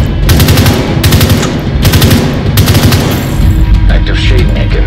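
Loud, rapid automatic weapon fire in a shooter video game, coming in several sustained bursts close up, one after another with brief pauses between.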